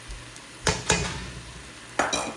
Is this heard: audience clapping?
no